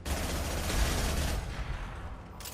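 Rapid SMG fire in the Mass Effect 2 video game, played on Xbox One through backward compatibility, crackles as a dense, loud burst for about a second and a half before tailing off into echoing shots and a brief final rattle.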